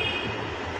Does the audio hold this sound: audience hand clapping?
no